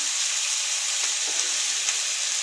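Chicken feet adobo sizzles and fries in a pan while being stirred, a steady hiss with occasional soft scrapes and crackles, close and even, without talk.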